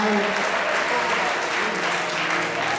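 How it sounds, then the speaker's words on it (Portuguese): Louder congregational applause fills a church service, a thick, continuous wall of clapping from many people, with a voice audible faintly at the very start. "Pode aplaudir mais forte."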